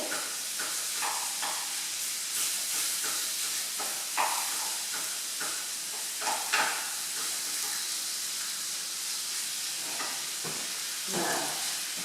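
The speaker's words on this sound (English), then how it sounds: "So I'm just stirring it all in." Spiced lamb being stirred in a hot pan, a steady loud sizzle with repeated scraping strokes of the spoon at irregular intervals, no voices.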